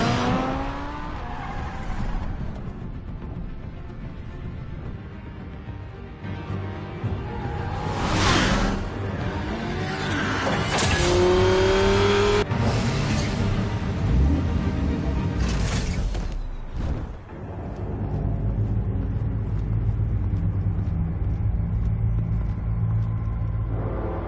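A car drives in the Batman Telltale video game, with a loud, continuous engine rumble, whooshing passes and tire squeals through most of the stretch, plus a few sharp bursts and a brief dip near the end.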